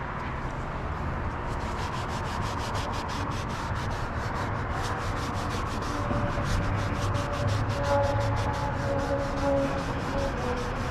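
An applicator rubbing ceramic coating onto plastic trim in a car engine bay, a steady rapid back-and-forth scrubbing, close and continuous with no talk.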